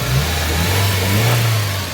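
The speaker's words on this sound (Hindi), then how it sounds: "ये गाड़ी स्टार्ट कर दी है हमने" A Suzuki Cultus car with an RPM issue and misfire runs after being started, its engine humming loud and close in a steady, slightly wavering drone with no talk over it.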